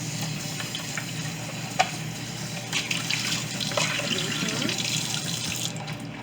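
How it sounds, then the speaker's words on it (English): Hot tap water runs steadily into a container being rinsed, with splashing changes and a few knocks as it is moved about. "I gotta rinse the top out too"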